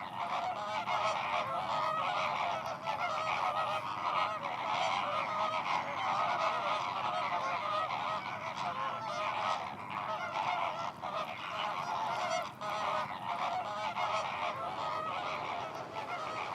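Dense flock of geese and other waterfowl honking continuously at the Biguglia lagoon in Corsica, a steady loud chorus of overlapping calls with no pauses.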